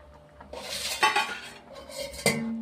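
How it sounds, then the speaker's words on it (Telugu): Okra is tipped into a pot of mosulu fish pulusu, a fish curry, with metal clanks and scraping stirs of a spoon against the pot, and no voices. "బెండకాయలు వేస్తున్నాను."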